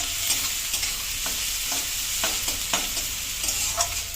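Beetroot mash base frying in a pan, steady broadband sizzle throughout with intermittent scraping stir clicks of a spatula, close and moderately loud, no talking.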